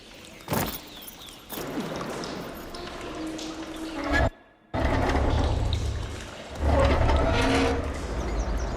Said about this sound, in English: Aloy, I can hear water in the room again.